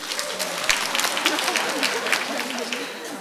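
An audience at a Korean panel talk event claps, producing a dense patter of many hands at moderate level that holds steady throughout, with a voice speaking faintly underneath.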